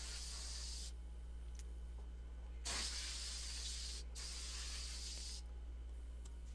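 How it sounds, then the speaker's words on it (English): An air gun blows dust out of dresser drawers in three long, loud hissing blasts separated by short pauses, with a steady low hum underneath. "So I'm using my air gun to clean them out."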